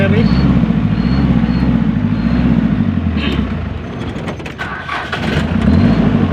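A Hyundai Grace van engine catches and runs with a steady low rumble close by, the idle rising and falling through the clip while people talk over it and one laughs.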